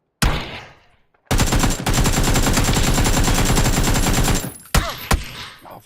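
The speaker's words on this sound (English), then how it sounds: "Fucking shotguns." Rapid gunfire from a firefight in PUBG, a sharp opening blast and then a dense, sustained volley of loud shots lasting about three seconds, followed by a few scattered separate bangs.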